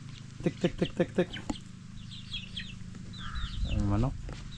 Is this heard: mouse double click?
no